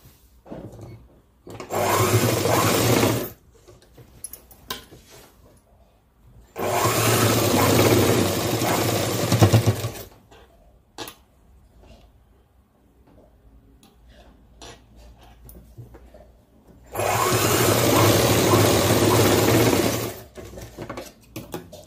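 A sewing machine runs in three bursts of steady, rapid stitching across folded cloth at the tucks. Quiet pauses of handling separate each run, and nobody speaks.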